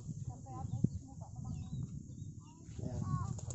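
A pet turkey in a chicken coop gives faint, scattered fowl calls over low background rumble, with a person talking nearby.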